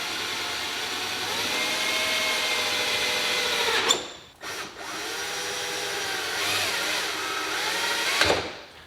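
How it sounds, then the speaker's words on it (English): A power drill whines steadily at high speed drilling holes on a Dodge Charger Hellcat, stops briefly, then drills again for several seconds before cutting off; close and loud, no talk. "Let's drill those out"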